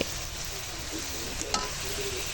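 Broiler chicken and jute greens in a pan on a clay stove hiss with a steady, close sizzle, with a couple of brief scraping stirs and no talking.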